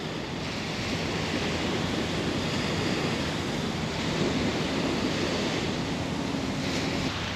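Waves washing onto a beach in Singapore, a steady broad roar of surf with wind noise, continuous and fairly loud with no distinct breaks or voices.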